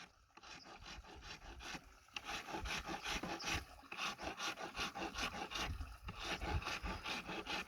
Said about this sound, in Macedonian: Се стружи, милиметар не сме да штрчи.